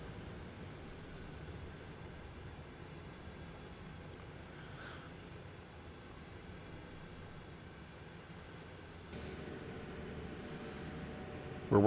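Steady low rumble of a train running through mountain track near Horseshoe Curve in Train Sim World 5, slowly gaining speed, a faint, continuous rolling drone with no voices.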